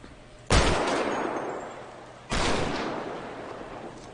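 Two loud, booming gunshots ring out in GTA V FiveM role play, fired at an RV on a hunting trip, each with a long echoing decay, spaced about two seconds apart.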